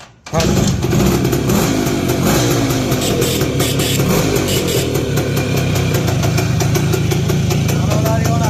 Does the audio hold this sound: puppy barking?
no